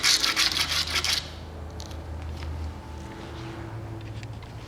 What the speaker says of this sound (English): Then sand down the tab to make the attaching surface flat and free from all of the previous materials